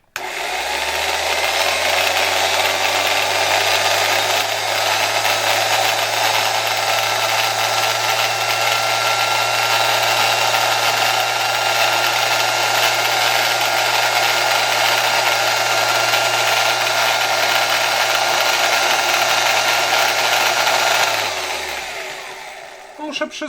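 Old PRCa-16 electric drill running through a series light bulb, a steady whining motor hum with a low electrical tone that holds for about twenty seconds, then winds down as power is cut.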